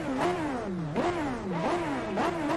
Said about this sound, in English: Let's rev that engine. Listen to that.